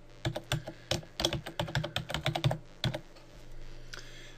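Rapid bursts of keystrokes on a computer keyboard as a password is entered, about a dozen close, crisp clicks in uneven rhythm over roughly three seconds, then a brief quiet stretch.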